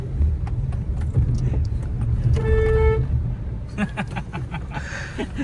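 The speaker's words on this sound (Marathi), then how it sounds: "सॅमीची गाडी पण आलेली आहे." A car engine rumbles close by as a car pulls up at a farmhouse, with a short horn toot in the middle and faint voices in the background.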